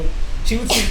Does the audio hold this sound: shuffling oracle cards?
no